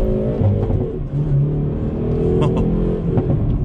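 2019 Hyundai Veloster N accelerating hard in first gear, a loud, close, continuous engine roar with a strained, sustained pitch from start to finish.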